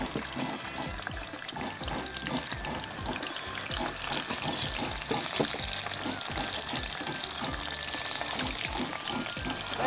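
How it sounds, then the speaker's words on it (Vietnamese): Fish frying in a pan in a home kitchen gives off a continuous, close crackling sizzle with dense spattering pops throughout, and no voices. "rồi bỏ cá vô chiên."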